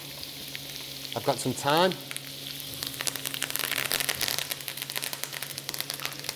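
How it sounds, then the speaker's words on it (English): Quail sizzling in a hot pan with knobs of butter, a steady crackling fry with a brief clatter early on, while someone talks over it. "hit the pan with a couple of knobs of butter"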